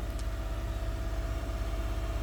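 A 2016 Toyota Highlander engine idles at around 2000 RPM during a coolant service, giving a steady, low, even hum with a faint pulsing throb and no one speaking.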